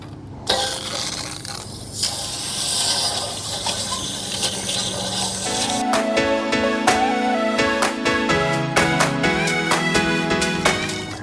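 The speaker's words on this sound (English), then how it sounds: "We also got the Camco water heater wand. It'll help you get some of that stuff out. We'll go ahead and rinse this out with this." Water rushes steadily through a Camco water heater wand as it rinses the water heater tank of a Wildwood 236BHXL travel trailer. The loud gushing flow deepens in tone about halfway through.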